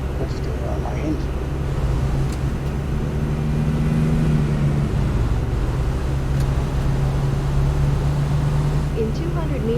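A truck engine in American Truck Simulator with realistic sound mods: a loud, steady low drone with a rising and falling tonal hum, reverberant and continuous, with a voice talking over it.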